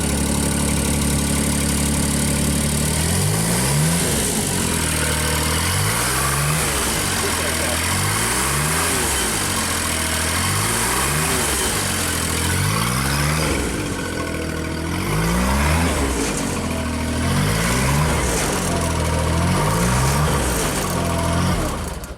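A small JLG scissor lift engine idles steadily, then its note drops and labours in a repeating, pulsing cycle as a function is engaged, loud and close, with someone talking over it.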